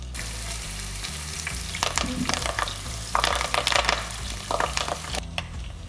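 Garlic, ginger, green chilli and curry leaves fry in hot oil for a spicy Kerala beef roast, a steady close sizzle with bursts of louder crackling and popping as the leaves hit the pan and the mixture is stirred.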